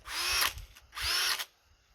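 An old Ridgid cordless drill, around fifteen years in use and running on an older NiCad-type battery, whirs up twice in short bursts of about half a second each, close and fairly loud, with no one talking.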